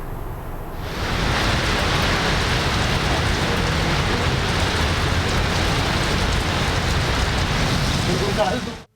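Heavy monsoon rain falls in Karachi, a steady loud hiss of downpour that starts abruptly after a brief quiet moment and pours on without letup until it cuts off at the end.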